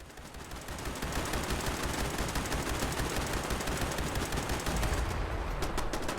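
Sustained automatic gunfire from shooting enemies in Fallout 76, a dense rapid stream of loud shots continuing almost without break, with a few heavier separated bursts near the end.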